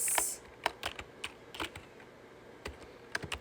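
Typing on a computer keyboard, a sparse run of soft close key clicks at an irregular pace, quiet and alone.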